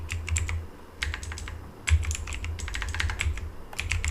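Rapid, steady typing on a computer keyboard while a network-scanning command is entered, with dense overlapping key clicks that pause briefly around the one-second mark, then continue close and alone without any talk.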